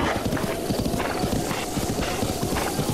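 Steady galloping hoofbeats of a horse in The Legend of Zelda: Breath of the Wild, a loud continuous rapid clip-clop rhythm without any speech.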